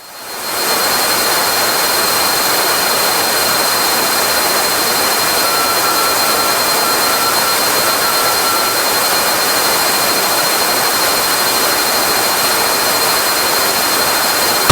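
A Cessna 340 twin-engine airplane cruising in flight, its engines producing a loud, steady, unbroken roar from inside the cabin, with no talk.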